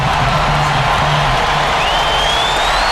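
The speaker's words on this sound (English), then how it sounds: "Listen to this crowd. It sounds like a rock concert in here." Loud, continuous crowd roar from an NBA 2K13 basketball game, Kings versus Grizzlies, erupting after a big shot, with dense cheering and whoops sustained throughout and a faint commentator voice mixed in.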